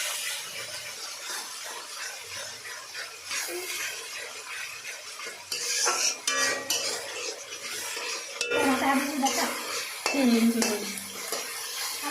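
Mutton being stirred in a pot with salt and ginger garlic paste, with repeated scraping and clanking of a metal spoon against the pot that grows louder in bursts, alongside faint background voices.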